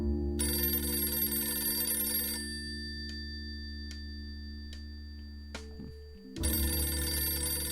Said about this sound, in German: hinter mir klingelt ein Telefon